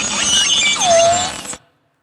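A beluga whale vocalizes with a bright, squeaky series of whistles and chirps, ending in a long falling then rising tone, loud and close before abruptly stopping.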